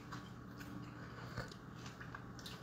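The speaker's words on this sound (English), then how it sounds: "And Teresa Schollenberger, yes, the fries are perfectly crunchy." Crunchy fries being bitten and chewed close up, a steady run of crisp crackling and munching with a few sharper bites and no talk.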